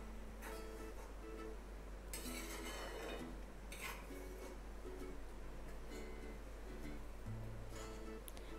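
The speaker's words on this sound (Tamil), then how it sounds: "அப்போ நம்ம அந்த மாதிரி கொஞ்சம் கிண்டி கிண்டி விட்டுட்டே இருக்கணும்" Homemade hair oil being stirred in a pan, repeated metallic scrapes and clinks of a spoon against the pan in an irregular rhythm over a faint low hum, quiet and close.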